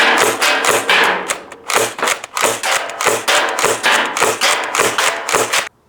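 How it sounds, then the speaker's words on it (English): A Nerf GelFire Quadrant blaster slam fires in quick repeated bursts, a run of sharp close snaps and thuds roughly two to three per second, with a brief pause partway through, then stopping abruptly. "Okay, let's try some slam fire."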